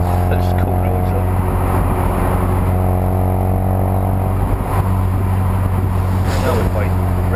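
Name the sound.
Ford Focus RS engine, rev-matched downshift pop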